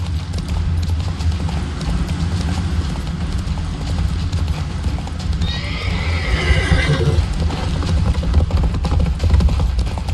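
Geralt's horse Roach in The Witcher 3 gallops with rapid, loud clip-clop hoofbeats, and a bright neighing whinny rises over them midway, all close and energetic with no speech.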